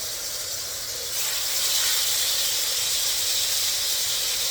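Steady, loud sizzling hiss of food frying in a hot pan, swelling slightly after the first second and holding constant, with no voices.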